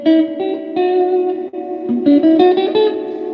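A short electric guitar phrase of several plucked notes runs through a Twin Reverb amp's spring reverb with its drip setting, each note splashing into a wet, sloshing decay.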